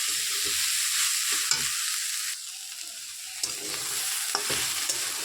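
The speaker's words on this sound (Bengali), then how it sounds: "এবার এটার মধ্যে আমি অ্যাড করে দিচ্ছি ভেজে রাখা আলু" Greens (dhenki shak) frying and being stirred in a pan as fried potatoes are added, with a steady close sizzle and intermittent scraping stirs, no talk.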